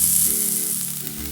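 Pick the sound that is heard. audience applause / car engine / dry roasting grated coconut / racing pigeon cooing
dry roasting grated coconut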